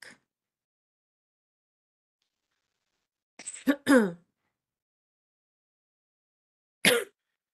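A few short, harsh throat clears and coughs from a speaker during a public workshop break a quiet room, one at the start, a cluster in the middle, and one near the end.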